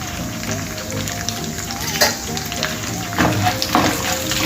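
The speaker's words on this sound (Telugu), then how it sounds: "3 టేబుల్ స్పూన్ల వరకు పల్లీలు, తర్వాత కొంచెం ఇది వేగాలండి." Peanuts frying in a pan for mango pulihora: a steady crackling sizzle with occasional stirring clinks and scrapes, close and fairly loud, no voice.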